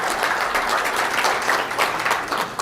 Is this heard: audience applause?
yes